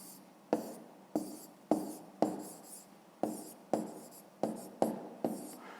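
A pen writing on paper in a Ukrainian maths exercise, as the answer is written out: short scratchy strokes about every half second, each sharp at the start and then trailing off, close and clear with no talk.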